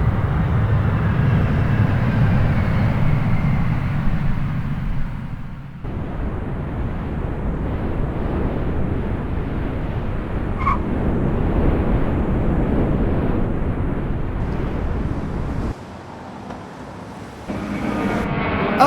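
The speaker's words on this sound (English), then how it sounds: "we'll see the inbound landing aircraft coming really low over our heads" An Antonov AN-225 from Kiev landing low overhead at a model airport, a steady loud roar of engines sustained throughout, shifting in tone as it passes with no talk.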